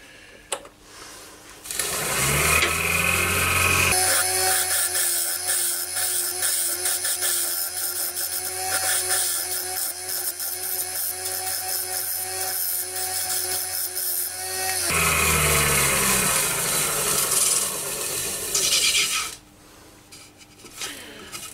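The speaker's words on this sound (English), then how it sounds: "I'm just merging the actual base with the side now with the round carbide scraper" A round carbide scraper cutting a turning wooden bowl on a lathe, merging the base into the side, with a loud steady whine of the spinning lathe and continuous close scraping for most of the clip.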